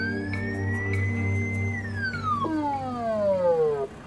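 A wailing emergency siren sweeps steadily, then drops in pitch as it passes, loud and continuous over low engine rumble.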